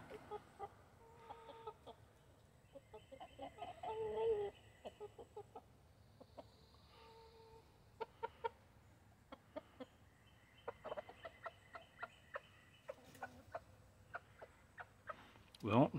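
Backyard hens and roosters clucking in scattered short bursts and calls, fairly soft and close, with quiet gaps between and a louder squawk at the end.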